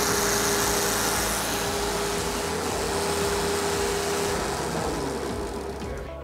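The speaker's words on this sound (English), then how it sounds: "If I click on Run two motors, you can see that the motors will be easily turned on." Two REV robotics motors run together on a prototype test bench, giving a steady mid-pitched electric hum with a faint whine that holds at an even level for the full stretch and eases off only slightly near the end.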